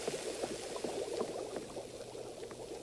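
Pot of water with salt and potatoes bubbling on the stove in the restaurant cooking game Chef Life, a steady soft rolling simmer heard up close with no talking.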